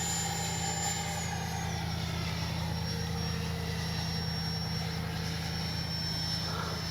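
An FMS 80mm EDF RC jet flies overhead, its ducted fan giving a steady, faint whine and whoosh that holds throughout with a thin high tone shifting slightly, heard from a distance with no talking.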